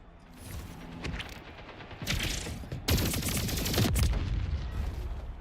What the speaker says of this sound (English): Ah, rockets.